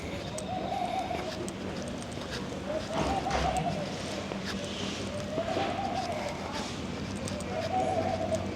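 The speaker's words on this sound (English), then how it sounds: "Hear all the birds." Birds coo repeatedly in a steady, rolling rhythm over a busy outdoor background of chatter and ambient noise.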